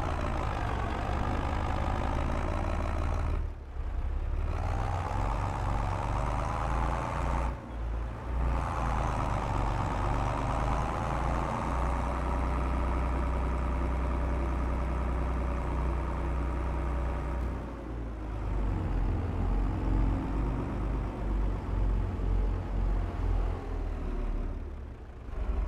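New Holland tractor engine in Farming Simulator 22 running with a steady low diesel drone, loud and continuous, with brief drops as gears shift, no talk over it.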